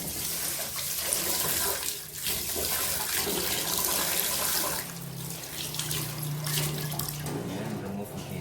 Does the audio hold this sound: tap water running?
yes